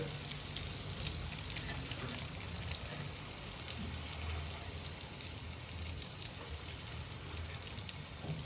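Rava-coated squid (makli) fries in oil with a soft, continuous, crackling sizzle like light rain, steady throughout and fairly faint.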